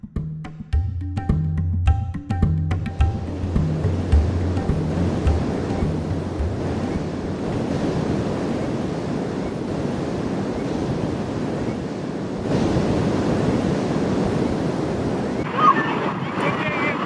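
Ocean waves roll onto a beach at St. Lucia on the Indian Ocean, a steady wash of surf with wind buffeting the microphone and brief speech at the start.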